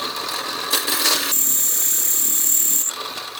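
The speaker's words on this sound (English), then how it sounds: "I'm using my drill press here. This is a hole saw with carbide tips." Drill press cutting a hole with a carbide-tipped hole saw, a loud close grinding whine with a high shrill tone rising midway, steady for a couple of seconds before easing off.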